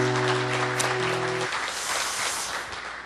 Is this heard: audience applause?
yes